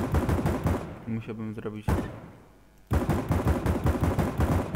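New gunshot sounds in the video game CS:GO crack out in rapid, repeated bursts with a short pause between volleys, loud and close, while someone talks over the shooting.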